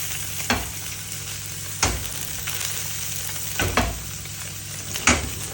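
Snapper or permit fillets frying in a little avocado oil, a steady close sizzle broken by four sharp scrapes or taps of a utensil in the pan, with no voices.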